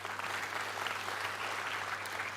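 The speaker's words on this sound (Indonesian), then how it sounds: "tepuk tangan untuk barongsai kita" An audience at a political party gathering applauds the barongsai lion dance, producing a steady, fairly distant wash of clapping from a crowd that holds evenly throughout, without any voices over it.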